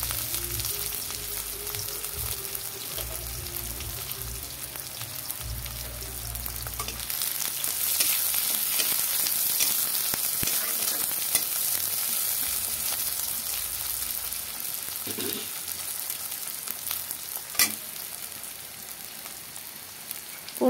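Dried chilli and onion fry in oil in a kadai with a steady, close crackling sizzle, an occasional stir and one sharp tap of a utensil late on; no one talks.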